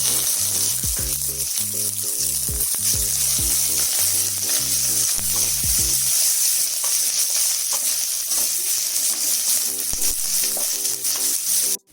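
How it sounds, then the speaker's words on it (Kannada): Garlic and lengthwise-sliced onion frying in a pan for veg kuska, a steady loud sizzle throughout with a rhythmic clinking of a stirring utensil in the first half. "ಒಂದು ಈರುಳ್ಳಿ ಉದ್ದಕ್ಕೆ ಹೆಚ್ಕೊಂಡಿರೋದು ಹಾಕೋಬೇಕು"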